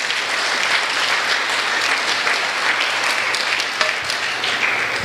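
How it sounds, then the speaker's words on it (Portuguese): A church congregation breaks into dense, sustained applause, loud and continuous, many hands clapping together throughout with no pauses. "Aplauda o Senhor Jesus"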